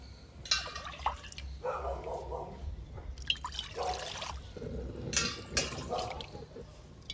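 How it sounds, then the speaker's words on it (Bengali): Two bowls of water are poured into a kadai in bursts of splashing and trickling, close and fairly quiet, with a pause between pours. "কড়াতে আমি এই বাটি দু বাটি জল দিয়ে দিচ্ছি"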